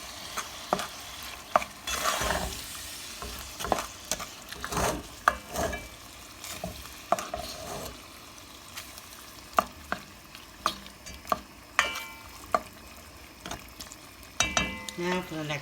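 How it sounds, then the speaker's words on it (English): Seasonings with garlic powder are stirred in a sizzling pan for Puerto Rican rice with pigeon peas, a steady frying hiss broken by repeated sharp scrapes and clinks of the spoon against the pan. "And the garlic powder. And we'll mix all that together."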